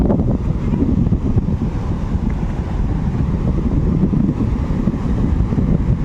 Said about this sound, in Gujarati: દરિયો આ રીતનો કંઈક મોજા ઉછળે છે.